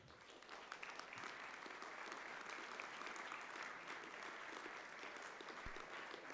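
Sustained applause from a conference audience at the 2015 Munich Security Conference, a dense clatter of clapping hands that carries on evenly from start to finish.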